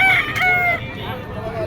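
A rooster crows once, loud and close, amid the background bustle of an open-air pet and poultry market in Bocaue, Philippines.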